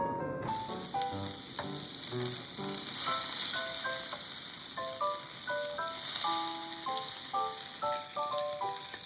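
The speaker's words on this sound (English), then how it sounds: "Put the patty on the frying pan." Steady, loud sizzling of a patty frying in a hot pan, a continuous crackling hiss with brief scraping and clinks over it.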